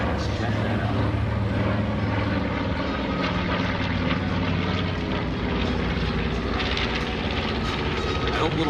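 A North American B-25 Mitchell bomber makes a final low photo pass at the 2019 Joint Base Andrews air show, its piston engines roaring loudly and steadily throughout with crowd and announcer noise underneath.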